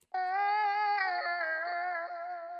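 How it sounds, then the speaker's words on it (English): Vocal chop samples from Splice processed with a Little Other Boy plugin and EQ sing a steady, bright sustained tone that dips slightly in pitch partway through, alone and clear. "And with the effects, they sound like this."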